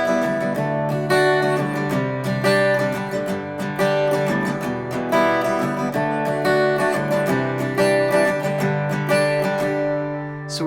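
Acoustic guitar strumming the pre-chorus of a song, steady full chords ringing in an even rhythm, close and alone without any voice.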